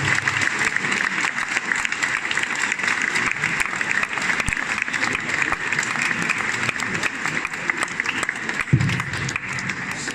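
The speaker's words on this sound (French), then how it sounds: "je vous propose qu'on applaudisse tous ceux qui nous soutiennent, tous ceux qui ont fait ce festival" At the opening of a festival at Villeneuve-lès-Avignon, the audience gives sustained applause for supporters and organizers, a long, dense, steady clapping of a large crowd with faint voices beneath.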